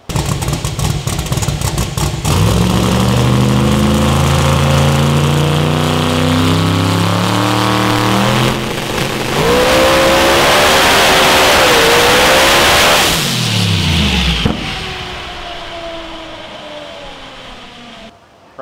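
Twin-turbo ProMod drag race car engine making over 5,000 horsepower, running loud and close: a deep revving roar with rising and falling pitch sweeps and a hard metallic rasp, then cutting back to idle near the end.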